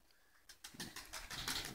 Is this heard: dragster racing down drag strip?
no